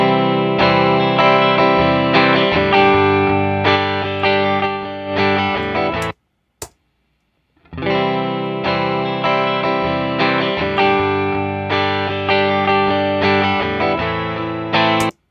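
Electric guitar played through an amp with an impulse response and a Pro-Q 3 match EQ, loud distorted chords strummed in rhythmic bursts, a brief pause with a click in the middle, then the riff repeats.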